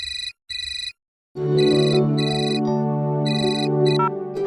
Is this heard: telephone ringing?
yes